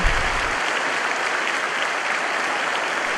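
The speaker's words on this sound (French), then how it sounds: "Un applaudissement pour les frères et sœurs de Rancagua" Continuous applause from a church congregation in Santiago de Chile, greeting the brothers and sisters of Rancagua during a Bible study: a dense, even wash of many hands clapping at once, loud and sustained throughout.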